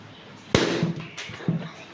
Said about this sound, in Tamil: இப்போ நெக்ஸ்ட் வேற ஒருத்தங்க பலூன் வெடிக்கலாம்